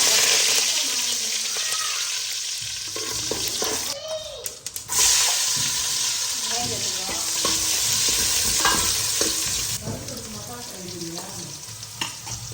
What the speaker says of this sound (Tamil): சட்டி அடுப்பு வச்சாச்சு. எண்ணெய் காஞ்சிச்சு. கடுகு வைக்கிறோம்.